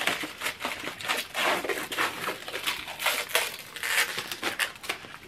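Paper crinkling and crushing as a glass-framed painting is wrapped up for protection, a close, continuous series of crumpling bursts with no talk over it.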